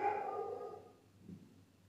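A dog gives a single bark, fairly clear at the start, then fades into a quiet low hum with a faint later sound.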